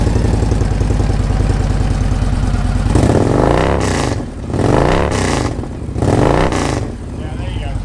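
A Victory Cross Country motorcycle engine idles steadily up close, then is revved hard three times in rising and falling surges, loud and near.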